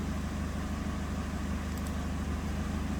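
A 2006 Chevrolet Malibu with the 2.2 engine runs at a steady idle after starting, a continuous low hum with a regular pulse and no change in pitch, and no voices over it.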